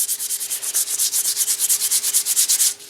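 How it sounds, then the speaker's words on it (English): Sandpaper works over the refinished stock of a Remington 31 12-gauge shotgun, cutting runs back to the base coat with fast, even back-and-forth strokes, close and steady with no talk. "You can see where I'm sanding."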